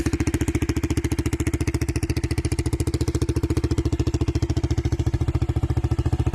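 A KTM Duke 200 motorcycle with an aftermarket end-can exhaust fitted with a dB killer idles close by, giving a loud, rapid, evenly pulsing thump that stays steady throughout with no talking.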